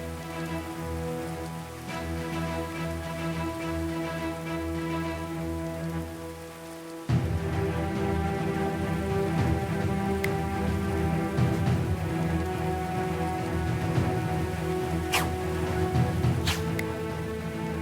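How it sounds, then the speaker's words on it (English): Steady rain falling in the medieval colony-building game Going Medieval, a dense continuous hiss that grows heavier partway through, joined by a low droning tone and a few sharp clicks. "The rain was making archery difficult."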